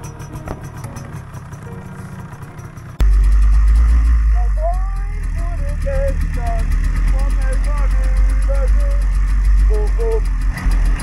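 An MZ motorcycle on a long touring ride to the North Cape roars into life partway through, then holds a loud, close, rough knocking run as it pulls away, with people talking before and over it.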